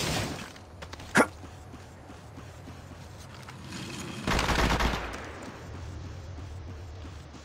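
Gunfire in the mobile game Apex Legends Mobile, with a single sharp shot early on and then a dense, rapid burst of automatic fire lasting under a second, over low in-game background noise.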